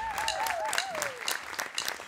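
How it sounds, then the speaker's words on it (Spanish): Studio audience applause on a television show, steady clapping from a crowd at moderate distance, with a host's sustained voice carrying over it at the start. "Fuerte el aplauso"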